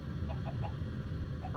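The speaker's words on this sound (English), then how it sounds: "Chickens." Chickens in the video game Forever Stranded make a few soft, quick clucks at a steady pace, quiet over a low, constant background hum.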